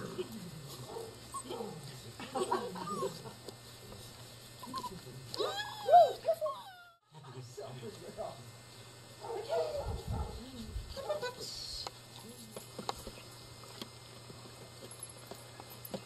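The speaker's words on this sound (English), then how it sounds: "Attack of the lab puppies." Several Labrador puppies yip, whimper and bark excitedly on grass in a busy, close jumble, with brief thumps and background noise throughout.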